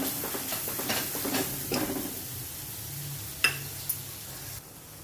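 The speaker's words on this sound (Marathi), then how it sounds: "आता हा मसाला मी मंद हाचेवरच थोडासा परतवून घेते" Masala sautéing gently in oil over a low flame while making soybean chunk curry, a soft steady sizzle with light stirring scrapes and a couple of clicks from the pan.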